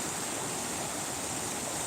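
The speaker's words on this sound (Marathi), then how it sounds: "खूप मोठं पाणी आलेलं आहे" Floodwater of the Chandni river rushes past in a steady, even hiss of broadband turbulence with no pauses, fairly faint and without voices.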